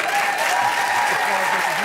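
A studio audience applauds on a television chat show, a steady burst of clapping that fills the whole moment.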